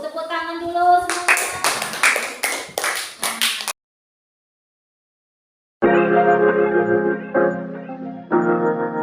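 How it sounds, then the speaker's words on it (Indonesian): A classroom group claps hands together in a quick burst of overlapping claps for a few seconds, then silence, followed by a voice and other tonal sound. "Tepuk tangan dulu semuanya"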